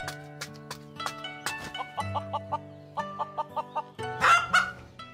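A chicken in an animated parody redub clucks in a quick rhythmic series of short, bright bursts, fairly close and mixed with tonal sounds, ending in a louder squawk.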